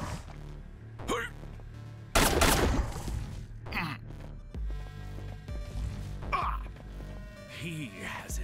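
Pistol shots in SOTS: The Pit, a handful of sharp separate cracks spaced seconds apart over a low ambient hum, with a voice talking in between.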